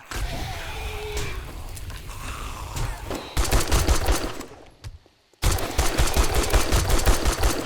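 Weapons firing at a biker zombie in the survival video game 7 Days To Die, with loud rapid gunfire bursts and dense automatic volleys that break off into near-silence for a moment before another sustained barrage.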